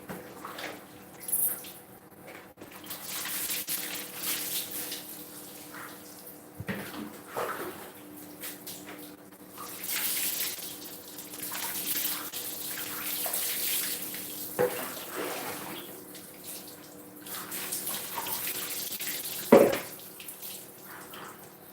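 Water running and splashing during a Songkran bathing show, a steady tap-like flow with intermittent sloshes and drips, moderately close with no talk.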